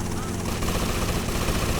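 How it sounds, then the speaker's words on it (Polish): A helicopter in the video game GTA Vice City Stories roars loudly with a steady rotor chop, while game gunfire bursts and someone talks over it. "Jaki helikopter?"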